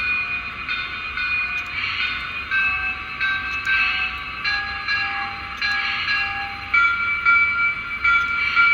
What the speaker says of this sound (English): And then bell.